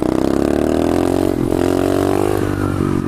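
A pit bike engine revs hard and loud in third gear during a wheelie, a close, continuous buzzing drone that rises slightly in pitch with a brief dip midway.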